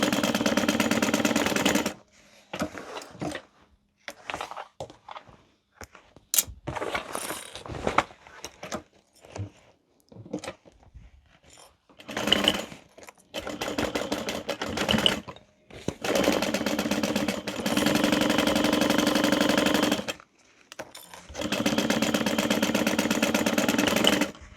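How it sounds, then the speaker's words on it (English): A sewing machine runs in close, loud bursts with short pauses between them as it back-stitches and sews a seam in an Everyday Tote bag lining. "I'll do a little back stitch, and then once I get past that, I will increase my seam allowance."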